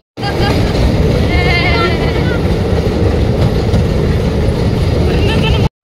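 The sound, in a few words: small park train running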